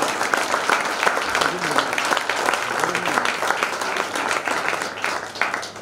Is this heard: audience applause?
yes